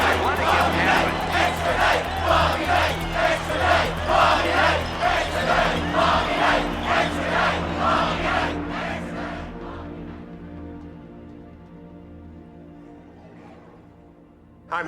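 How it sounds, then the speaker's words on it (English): A packed basketball arena crowd roars and jeers at the coach after a technical foul, a loud sustained wall of voices that gradually fades away over the last few seconds. "The crowd here really letting him have it."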